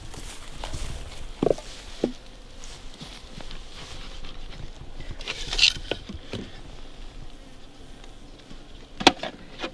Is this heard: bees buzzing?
yes